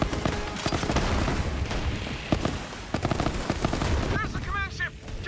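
Rapid turret gunfire in the video game Borderlands, bursts of repeated shots crackling loudly and continuously through the scene, with sharper electronic chirps near the end.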